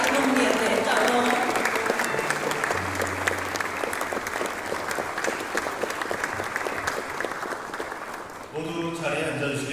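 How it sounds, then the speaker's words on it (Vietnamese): Long, dense applause from a large standing crowd at a Korea–Vietnam state banquet, steady for about nine seconds with a voice speaking briefly at the start and again as it ends. "모두 자리에 서면 큰 박수로 환영해 주시기 바랍니다."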